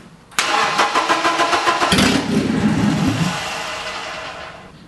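An old barn-find BMW car engine cranks with a fast rhythmic starter whir, catches after about two seconds and settles into a rough, steady idle, heard up close with no talking.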